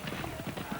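Racehorses in a 1983 steeplechase galloping downhill, their hooves drumming in a steady clip-clop rhythm beneath continuous race commentary.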